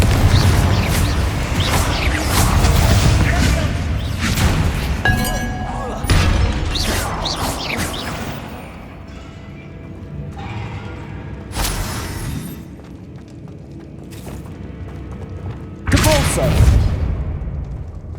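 Spell blasts hitting a barricade in the video game Hogwarts Legacy: loud booming impacts and crashing debris in bursts, with a heavy final blast near the end over a busy game soundscape.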